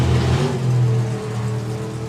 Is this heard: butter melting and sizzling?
no